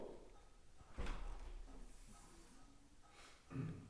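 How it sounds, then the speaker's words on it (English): A door is pulled shut during a paranormal investigation, giving one muffled thud with a low rumble, followed by quiet room noise and a softer knock near the end. "I'm going to close the door."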